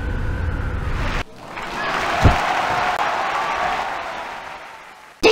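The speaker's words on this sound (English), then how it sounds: "Did you hear the crowd?" A crowd roars and cheers in a broad wash of noise in the 1996 PC game Elroy's Costume Closet, swelling and fading over several seconds after an abrupt cut from a louder sound.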